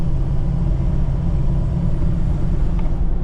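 A 2004 Ford Excursion with a 6.0L Powerstroke diesel and straight pipe drives along, a steady deep low rumble heard from inside the cabin, constant and fairly loud with no talk.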